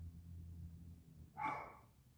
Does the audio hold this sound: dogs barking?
yes